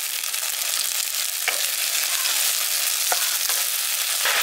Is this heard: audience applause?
no